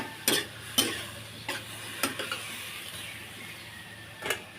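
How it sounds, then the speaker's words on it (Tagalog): String beans stirred with vinegar and soy sauce in a pan for adobong sitaw, a handful of sharp spoon scrapes and taps against the pan spaced irregularly over a faint steady hum, close up with no talking. "And then, haluin lang natin."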